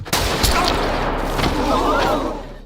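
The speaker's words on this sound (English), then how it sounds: "People start sprinting for the exit, and the gunfire doesn't stop" Gunfire in a Squid Game scene comes as a loud, dense fusillade of overlapping shots, close and sustained over a noisy background.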